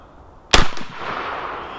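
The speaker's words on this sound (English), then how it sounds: "Let's do one more shot out of the Black Aces Tactical." A single Black Aces Tactical shotgun blast with birdshot, a sudden loud close crack followed by a rolling echo that fades over the next second, with no voices.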